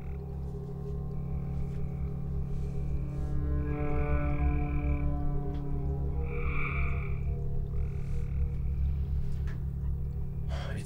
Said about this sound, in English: It's just the frogs.